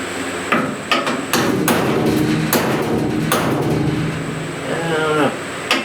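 Heavy hammer blows ring out on a 1969 C10 truck door, a series of loud clanging strikes at irregular intervals with a metallic ring between them.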